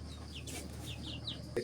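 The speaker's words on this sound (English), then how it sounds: "And here is my male chicken" Chickens on a small local farm in Nepal, a few soft clucks and chirps repeating close by over a low steady background hum, with a brief sharper knock near the end.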